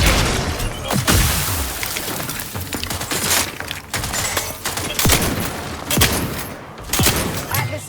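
Rapid bursts of gunfire in The Outer Worlds 2: sharp shots and volleys crack out repeatedly, loud and close, with short gaps between clusters.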